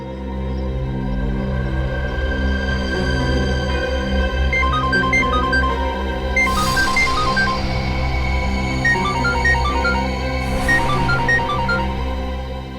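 A steady electronic ringtone melody plays continuously over a droning background, loud and unbroken, with repeating tones.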